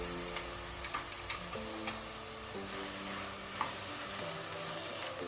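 Masala with ginger garlic paste fries in a pan with a steady close sizzle, with light stirring taps through it and a low tonal hum underneath.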